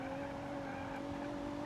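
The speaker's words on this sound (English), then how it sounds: "You hear it scraping." Bent front wheel scraping on a car in BeamNG: a steady grinding, squealing drone with sustained tonal whine, continuous and fairly faint, without talk.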